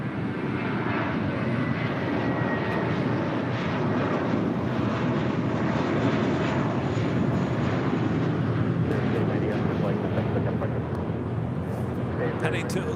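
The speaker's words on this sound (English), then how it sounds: "That was Spirit Airlines flight 890, then A321" A Spirit Airlines Airbus A321 airliner takes off from LAX, its jet engines producing a loud, steady broadband roar that holds strong and continuous throughout, with faint voices mixed underneath.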